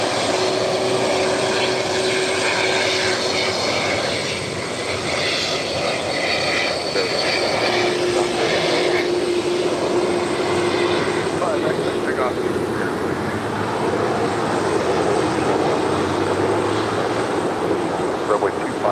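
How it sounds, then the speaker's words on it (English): A Boeing 747 taking off or landing at LAX gives a steady, loud broadband roar of jet engine noise that holds for the whole stretch, with people talking over it. "Queen taking off, a Queen landing."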